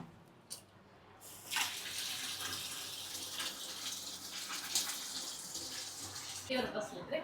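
Water pours and splashes steadily as drinking water is strained through a filter into containers at home during a water shortage, a broad running gush lasting several seconds at close range.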